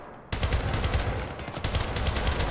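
Rifle fire in the Syndicate video game starts abruptly after a brief quiet moment, then continues as a loud, sustained rattle of rapid shots.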